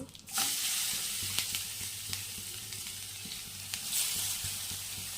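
Grated carrots for village-style gajar halwa drop into hot ghee in a pan and burst into a loud, close sizzle that settles into a steady hiss, with faint stirring scrapes.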